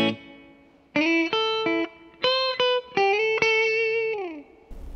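Electric guitar chords through a TC Electronic Trinity pedal set to a short reverb TonePrint, in a split pedalboard rig; loud strummed chords ring with brief, tight decays between pauses.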